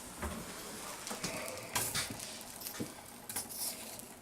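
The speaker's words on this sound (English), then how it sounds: "I just want this butter to kind of bubble out a little bit" Butter melts and sizzles in a pan while cooking spinach, a soft crackling patter with light pops and a brief stir, quiet and close.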